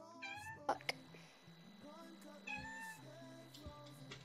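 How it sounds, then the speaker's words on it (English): A house cat meows several times in a room during a FIFA 20 gaming session, with short rising-and-falling cries over game sound and background noise. "is it your cat?"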